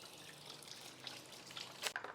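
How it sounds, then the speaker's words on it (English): Hands are rinsed under a running kitchen tap while making no-bake keto brownie bites. A soft, steady stream of water splashes against skin and the sink, with a few sharper splatters near the end of the short burst. "I'm gonna wash my hands real quick."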